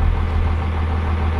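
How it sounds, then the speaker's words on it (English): A truck engine idles steadily with a deep low rumble, close and constant throughout, the vehicle showing a check engine light for an EGR actuator control circuit fault. "the truck is running"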